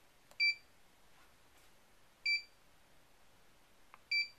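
A timer lock counts out its remaining time in short electronic beeps, three crisp, evenly spaced high-pitched chirps about two seconds apart against near silence.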